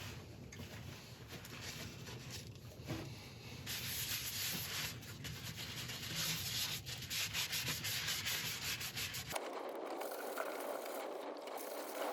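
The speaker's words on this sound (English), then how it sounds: "I'm just going to put a sealer on here and then we'll denib it and then go on with a Yorkshire grit just to give it a nice smooth surface" Hand sanding with a fine abrasive denibs a sealed wood surface, giving a close, continuous scratchy rubbing in quick back-and-forth strokes that stop abruptly near the end.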